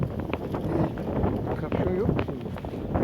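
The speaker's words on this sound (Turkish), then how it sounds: "rüzgar esiyor" Steady wind rumbles against the microphone at a ferry landing for Bozcaada, a dense low roar with gusty fluctuations, while faint voices murmur underneath.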